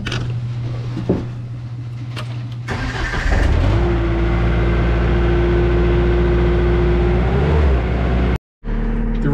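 A loader's engine cranks and catches, then settles into a loud, steady diesel idle with a rising mechanical whine, close by, before cutting out abruptly near the end.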